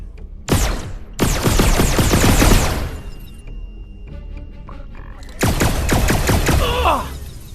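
Turret gunfire in the VR game Red Matter 2: loud bursts of rapid automatic shots, two long volleys then a third after a pause, with faint mechanical clicks between.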